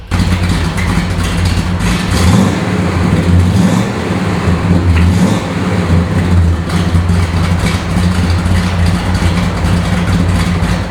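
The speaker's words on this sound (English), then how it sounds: "Listen to that rumble, man." Deep, loud rumble of a 1969 Plymouth Roadrunner muscle car engine running close by, steady throb with a brief rise in revs partway through, no talking.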